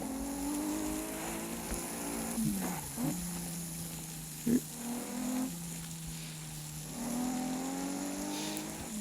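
Nissan car engine in a video game, a steady low drone that dips and rises in pitch with a few brief bumps, moderately loud throughout with no talking.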